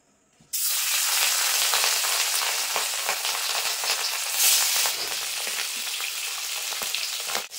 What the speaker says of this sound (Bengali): এবার মাছ ভেজে নেবো। মাছের পিসগুলো দিয়ে দেবো আমি।